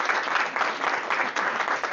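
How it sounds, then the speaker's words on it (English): A brief burst of applause from a small audience at a city circle meeting, with dense, even clapping that runs steadily for two seconds. "go ahead, Michelle, clap on"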